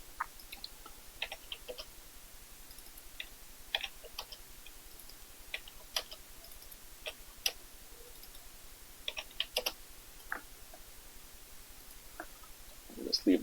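Computer keyboard typing, with light irregular key clicks in short bursts and scattered single taps, quiet and close, with no speech over them.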